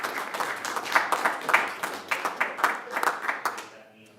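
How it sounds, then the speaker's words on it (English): A small audience at a city council meeting claps steadily for several seconds, scattered hands at moderate distance in a room, with a voice talking over the applause before it fades out. "feel free to clap if you guys would like"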